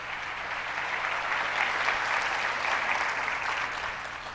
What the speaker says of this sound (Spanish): Denle un aplauso al Señor pues por esa verdad.